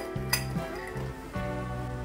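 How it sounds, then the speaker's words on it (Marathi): Walnuts tipped into a bowl of eggless date and walnut cake batter, with a few hard clinks and clatters against the bowl and a low continuous hum underneath, close and fairly quiet. "याच्यात घालूया थोडेसे वॉलनट्स"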